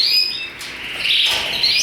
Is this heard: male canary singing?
yes